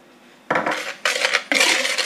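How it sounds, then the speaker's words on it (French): Sugar, salt and cinnamon being stirred in a bowl with a utensil, giving three bursts of clinking, scraping strokes one after another, close and fairly loud. "je vais mélanger ça pour que la cannelle elle rentre bien dans le mélange"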